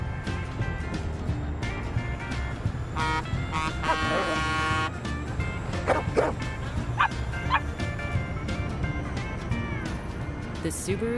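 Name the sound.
dog barking and whimpering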